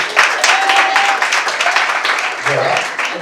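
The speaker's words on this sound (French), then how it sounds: "Ce soir, nous avons comme jury, sous vos applaudissements, monsieur Jacques Salvatore, maître d'Aubervilliers." A room of spectators at a junior cooking competition event applauds as the jury is introduced, dense clapping filling the space while a voice talks over it.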